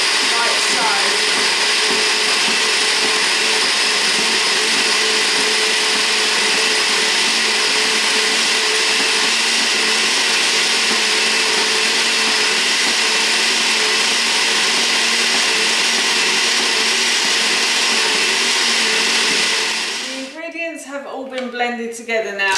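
A blender runs continuously at high speed, grinding oats into a fine flour, a loud steady whirring roar for about twenty seconds before it winds down and stops.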